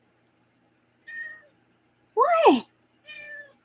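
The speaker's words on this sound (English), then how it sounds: "Such a big meow for you" A cat meows three times, up close: a short meow, a louder drawn-out meow, then another short one, with a person's brief voice in the mix.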